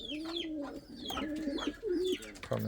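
An Indian Fantail pigeon coos close by in a continuous run of soft, throaty rolling calls.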